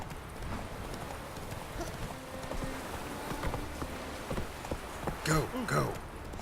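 Horse hooves clip-clop steadily at a walking pace in The Witcher 3, close and even over soft game ambience, while a voice briefly talks near the end.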